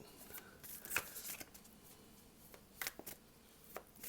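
Tarot cards being shuffled by hand in soft, quick riffling bursts with small slaps between them, close but quiet against a faint room background.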